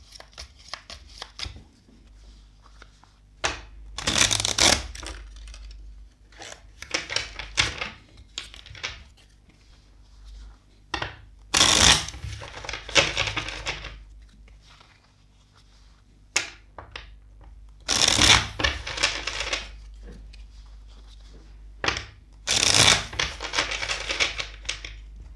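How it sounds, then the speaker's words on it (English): A tarot card deck is shuffled again and again in bursts of riffling and flapping. The shuffles come close and crisp, with short quiet gaps between them and no one talking. "First, let's shuffle the deck four times."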